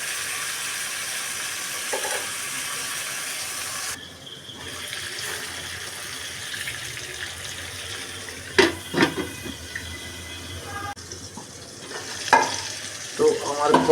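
Prawns sauté in a pan, a steady sizzle and frying hiss under occasional scraping stirs and clinks of a utensil against the pan, close up, with no talking.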